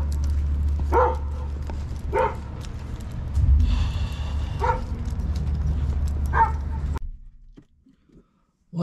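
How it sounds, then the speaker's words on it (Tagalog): Several dogs barking and yipping inside a vehicle, sharp barks and whimpers over a steady engine rumble, close and loud, then ending abruptly into near silence. "Daming aso sa loob ng sasakyan"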